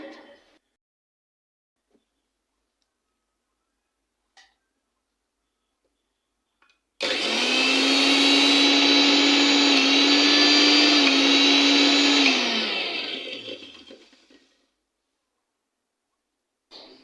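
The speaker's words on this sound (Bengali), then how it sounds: "তারপরে ব্লেন্ড করতেছি পানি দিয়া" A kitchen blender grinds roasted sesame seeds with water, a loud whirring motor starting abruptly, running steadily for several seconds, then winding down, with quiet gaps and faint clicks before and after.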